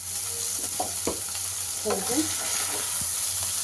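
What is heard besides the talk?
frying gokarakaya while stirring in pan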